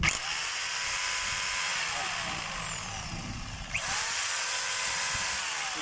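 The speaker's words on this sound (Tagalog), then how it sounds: "Rotary hammer po siya" A model 5032 rotary hammer drill with a defective switch runs with a high, steady motor whine that stops briefly midway and then starts again. A voice speaks during parts of the run.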